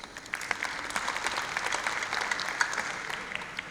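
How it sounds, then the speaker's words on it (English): Applause from an AGM audience at a Durban conference centre, a moderate crowd clapping with individual claps standing out, steady for a few seconds with no voices over it. "they deserve a round of applause"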